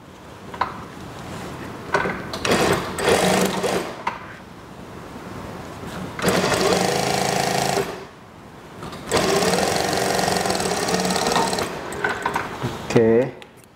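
A sewing machine stitches a school skirt in loud bursts of several seconds each, with short gaps and handling clatter between runs.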